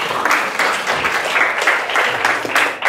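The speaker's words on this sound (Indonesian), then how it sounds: "kurang meriah tepuk tangan" Audience of students applauds at a school leadership training session in Jakarta, a loud, dense burst of many hands clapping that pulses slightly and holds steady throughout.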